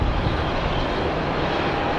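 An Aruba Airlines aircraft at Tampa airport gives off a loud, steady engine roar that fills the whole moment without a break.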